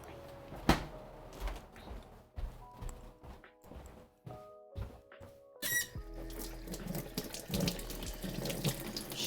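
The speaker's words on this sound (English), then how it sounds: "Now I'll wash my hands." Hands are washed under a running kitchen tap, with steady water flow splashing into a sink, broken by a few clatters and knocks of dishes or cupboards nearby.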